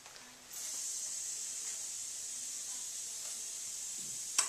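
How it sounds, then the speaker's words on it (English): Continuous hiss of spray-on sunscreen being applied to skin, a steady close aerosol spray lasting about four seconds, starting abruptly and ending with a brief sputter. "This is how much sunscreen you need to put on when you use a spray-on."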